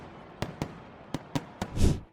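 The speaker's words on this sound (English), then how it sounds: "Firework Chaos, Taiwan's bravest festival." Fireworks at the Yanshui Beehive Fireworks Festival in Tainan, Taiwan: five sharp, loud bangs at uneven intervals, closing on a heavier, longer burst. No voices.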